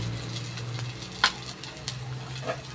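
Sliced onions dropped into a small amount of smoking-hot oil crackle and sizzle close up, with scattered sharp pops and stirring scrapes over a low steady hiss.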